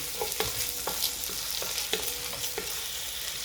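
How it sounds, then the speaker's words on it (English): Steady sizzling of beef stir-frying in a hot pan, with repeated scraping and clanking of a utensil stirring at an even rhythm. "Stir-frying through and through."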